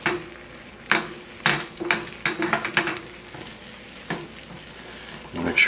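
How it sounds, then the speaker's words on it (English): Eggs for a mushroom and cheese omelette cook in a pan as the edges are pushed inward, a quiet sizzle broken by several sharp utensil scrapes and taps against the pan. "we're just gonna start moving the edges that are cooking into the middle and let the other egg come to the outside to cook"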